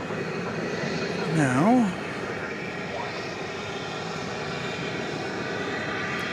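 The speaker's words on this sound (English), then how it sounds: "that was Flight 2833, Airbus A321." An Airbus A321 jet airliner, flight 2833, at DFW Airport at night produces a steady, moderately loud engine rumble throughout, with a brief word spoken early and a short swooping tone near the start.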